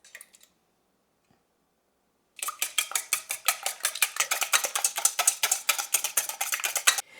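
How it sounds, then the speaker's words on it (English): Eggs being whisked briskly in a bowl for lemon curd: a quiet pause, then a fast, steady run of sharp metallic clicks and taps that continues for several seconds before stopping. "We're going to whisk our eggs."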